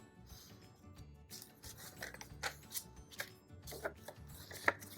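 A paper book jacket is sliced with a blade, giving a few faint scraping and rasping strokes at an uneven pace, close and quiet, with no talking.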